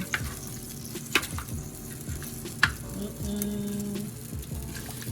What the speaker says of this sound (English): You guys hear that? Yeah. Sizzling. Sizzling, sizzling.